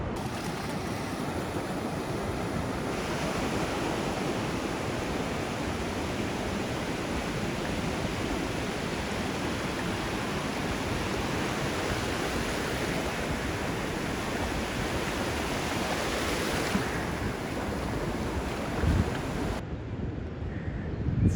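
Steady broadband roar of sea waves and wind at Sonapara beach in Cox's Bazar, a continuous even wash with gusty buffeting on the microphone throughout and a few louder thumps near the end, no talk.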